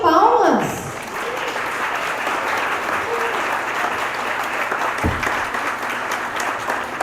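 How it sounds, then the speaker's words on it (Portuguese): An audience at a Pint of Science Brasil talk on robotics claps loudly and continuously for several seconds, a dense, sustained round of applause with a voice faintly mixed in. "Uma salva de palmas!"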